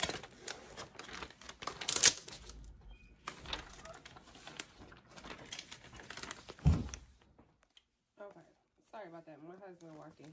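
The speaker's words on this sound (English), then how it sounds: "So I'm just going to get this transfer tape up." Cricut transfer tape being peeled off Cricut holographic vinyl, giving a stretch of close crinkling and tearing rustles with sharper bursts, then it falls quiet before a voice speaks at the end.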